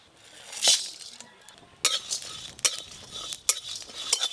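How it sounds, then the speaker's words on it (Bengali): Whole spices, including coriander, fennel, cumin, dried chillies, peppercorns, cardamom, cloves and cinnamon, are dry roasted in a pan. A spoon stirs and scrapes them in bursts of bright rattling and clinking, close and fairly loud. "গোটা ধনে, গোটা মৌরি, গোটা জিরে, শুকনো লঙ্কা, গোলমরিচ আর এখানে গরম মশলা নিয়েছি, ছোটো এলাচ, লবঙ্গ, দারচিনি একসঙ্গে ভেজে নেব।"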